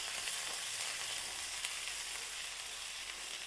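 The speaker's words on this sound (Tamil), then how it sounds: "நல்லா ஃப்ரை ஆயிடுச்சு." Onion flower stalks frying in a pan give a steady, close crackling sizzle that continues evenly throughout, with no voices.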